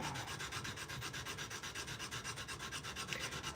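Rhythmic back-and-forth rasping of 120-grit abrasive being rubbed by hand across a knife's bevel, close and steady at an even stroke rate with no talking.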